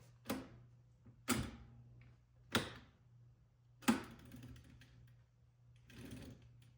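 A Remington Model Ten Noiseless typewriter carriage with a sticky action gives four sharp, fairly close clunks at uneven intervals, then a softer scraping rattle, over a steady low hum.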